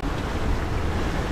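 Wind rushes and waves wash around a sailboat under sail on the open Caribbean Sea in a light swell and about 15 knots of wind, a brief, steady broadband roar with no voices.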